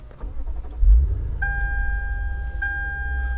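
A 2008 Lexus IS F engine fires up via push-button start with a short low thump and rumble, followed by a steady idle and a couple of electronic chime tones inside the cabin.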